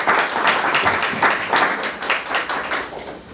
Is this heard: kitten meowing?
no